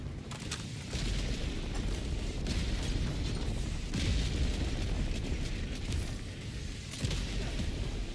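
A Helldivers-style orbital strike in a video game lands as a sustained, loud rumbling barrage of explosions, with heavy low booms rolling on for several seconds and a fresh burst near the end.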